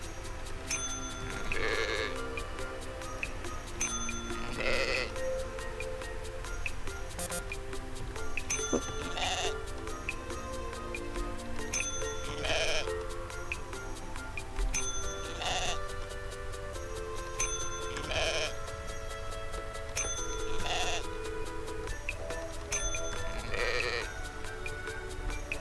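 Cartoonish sheep bleats from a video game about counting sheep, sounding roughly every two to three seconds in a steady, repeating rhythm over a faint, constant background tone.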